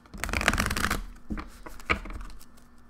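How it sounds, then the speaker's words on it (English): Oracle cards shuffled by hand in a riffling flurry, then a few softer shuffles with short pauses, close and fairly quiet. "I'm gonna pull a couple oracle cards."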